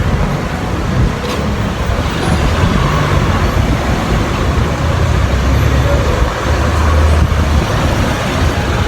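A tricycle ride through road traffic in Lipa, with a steady engine and road drone mixed with passing cars and larger vehicles all the way through, fairly loud and close.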